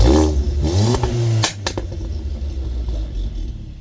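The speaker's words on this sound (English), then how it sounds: "it's got a Club Sport exhaust system which sounds like" A VW Golf Mk7 GTI with a Club Sport exhaust and Stage 1 tune at about 320 bhp revs loudly up and down close by, with sharp crackles and pops before settling into a deep, steady idle rumble.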